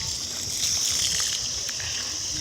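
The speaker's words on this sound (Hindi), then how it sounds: "तो गाइस अभी ये पानी भर रहा है देखो।" Water flows steadily into a dug pit, a continuous broadband rushing and sloshing at close range, unbroken throughout with no talk.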